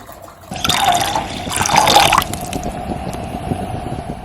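Water from a bottle pouring into a small camping canteen pot, a steady splashing gush for a couple of seconds that tapers into trickles and drips, close by with no talk.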